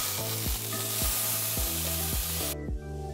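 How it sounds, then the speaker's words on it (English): A ribeye steak held on its edge with tongs sears in a hot pan, a loud continuous sizzle under a rhythmic repeating tonal hum that cuts off sharply near the end. "I'm going to use my tongs to hold it up on edge and just let it sear"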